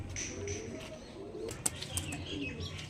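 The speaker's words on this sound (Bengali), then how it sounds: "এটা হচ্ছে নর পায়রা" A male Andhra pigeon coos faintly while wings give a couple of brief flapping bursts nearby, over a low background hum.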